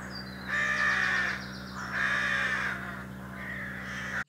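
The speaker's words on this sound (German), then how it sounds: "die Krähen hinter uns oder neben uns, die liefern sich so ein Duell" Crows in a meadow in Ireland trading loud, harsh caws back and forth, several bursts of calling that overlap in a noisy shouting match, with a steady hum underneath.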